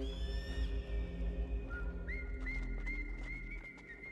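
A series of short, rising whistle notes repeats several times over a low, constant hum, fairly close and clear.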